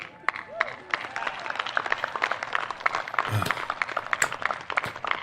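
An audience claps in scattered, close bursts that patter on for several seconds, with a voice talking over the applause.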